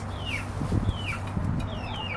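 Green egg laying hens clucking close by, a steady run of soft clucks and calls over a low background hum.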